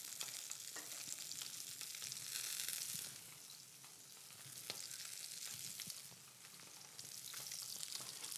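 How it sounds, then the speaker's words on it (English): Red mullet frying in a hot pan gives a steady, close sizzle and crackle that swells and eases slightly as it cooks, with no voices. "with the fish in the pan, what you'll see is it starts, red mullet starts to release almost like its own fat"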